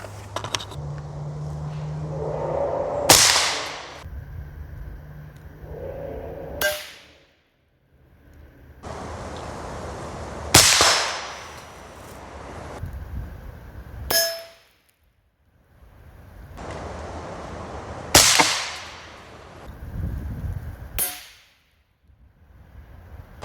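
Suppressed shots from a Geissele URGI 14.5-inch AR-15 fitted with a Silencer Co. Scythe suppressor strike thin armor plate, each one a sharp metallic clang with a ringing tail, four impacts spaced several seconds apart over a steady outdoor background.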